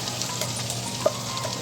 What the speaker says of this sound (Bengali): এবারে পেঁয়াজগুলো গরম তেলে ছাড়া হলো।